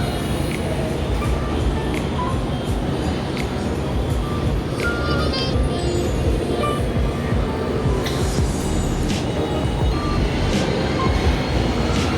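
Busy station ambience with a constant rumbling din, scattered beeps and squeals, and a few tonal signals rising over the background.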